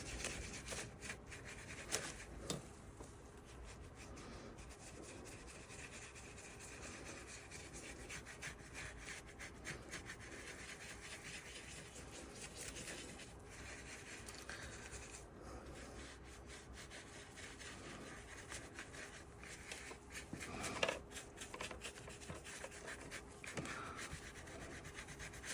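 Resin is being rubbed by hand into polystyrene balls, making a continuous soft, gritty rubbing and scraping close by at low level with no pauses and no talk.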